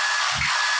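DOLIZ BD 636 12V cordless drill with a 25 mm bit, a brief loud burst of whirring motor and grinding noise lasting under a second, heard alone.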